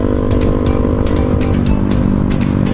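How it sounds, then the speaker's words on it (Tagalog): A loud, close motorcycle engine with a raspy drone from an exhaust pipe full of holes, rumbling continuously with small pulsing sputters throughout. "ito na naman tong maingay na pipe na to."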